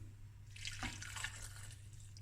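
A brief splashing pour of boiling water into a bowl, soft and close, over a faint steady hum.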